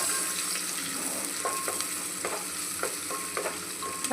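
Chopped onion sautéing in a pan for vegetable pulao, a steady close sizzle broken by repeated stirring scrapes of a spoon every half second or so, with no voices.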